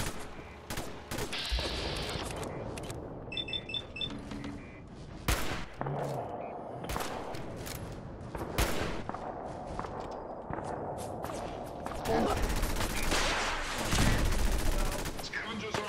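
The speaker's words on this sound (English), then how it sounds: "Get the hunting rifle out." Hunting rifle shots crack out in the Fallout 4 video game amid a busy battle, sharp close reports mixed with explosions, scattered bursts of gunfire and footsteps, with a voice talking at times.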